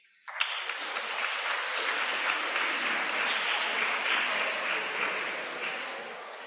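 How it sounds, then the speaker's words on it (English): An audience at a conference question session on the Abraham Accords breaks into applause after a sharp start, sustained, fairly full clapping that carries on evenly before easing slightly at the end. "a big round of applause"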